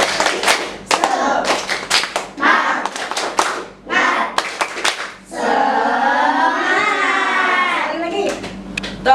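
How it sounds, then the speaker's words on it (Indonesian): A class of fifth-grade children claps hands in a quick rhythmic pattern of sharp bursts, followed by their voices chanting together. "Tepuk semangat."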